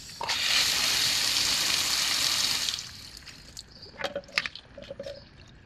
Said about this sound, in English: You're going to stick it right here on this part here. And you should see water shooting out of the venturis and also the back.